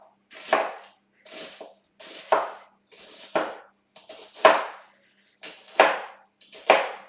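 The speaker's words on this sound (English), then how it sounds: "I'm just going to cut that really small" A vegetable bulb being chopped finely with a knife on a board, eight sharp, separate knocks at a slow, even pace, close and clear with quiet gaps between them and no speech.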